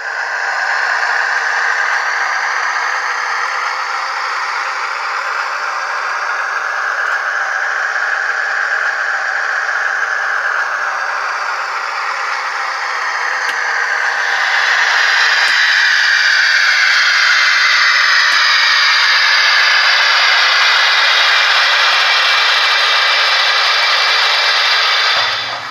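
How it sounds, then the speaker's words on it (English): A Blackstone steam locomotive sound decoder, tuned for a lower, fuller chuff, gives a loud, continuous rushing steam sound that grows slightly stronger partway through and holds steady to the end. "The locomotive on the rear track has had its decoder programmed so that it's got a lower chuff, a lot more oomph."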